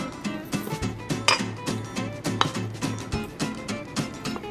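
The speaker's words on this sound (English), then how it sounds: "Every last bit counts here, so we have to scrape everything here." A spatula scrapes melted butter out of a bowl in repeated close, rhythmic strokes that rasp and clink against the sides, with no one talking.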